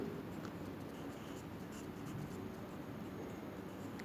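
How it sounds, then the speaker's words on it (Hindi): Writing on a board during an Urdu grammar lesson, heard as a steady, continuous scratching close by with no one speaking. "यहाँ पे मैं लिख रही हूँ"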